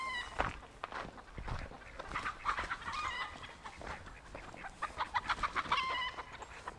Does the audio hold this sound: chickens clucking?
yes